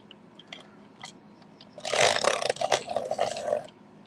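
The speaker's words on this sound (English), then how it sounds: "you might hear some noise for a second because I'm going to sharpen some pencils" A short burst of gritty grinding and scraping, like a pencil being sharpened, lasting about two seconds after a few faint taps, close and alone.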